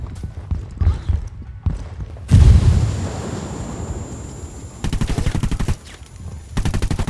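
Grenade blast in the Ghost Recon Wildlands video game, a loud heavy boom that rumbles and fades, set among rapid bursts of automatic gunfire before and after.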